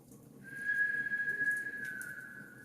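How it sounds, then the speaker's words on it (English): A single thin, steady whistle in the woods at night sounds for about a second and a half, fairly faint and distant against a quiet background. "There it was, the whistle again. This time clear and distinct."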